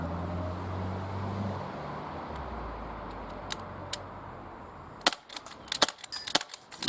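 An Umarex H&K MP5K CO2-powered 6 mm airsoft gun firing a short string of sharp, snappy shots near the end, preceded by low background hum, close and moderately loud.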